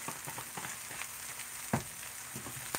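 Corned beef stuffed dumplings fry in hot oil with a quiet, steady sizzle, broken by a few sharper crackles and pops.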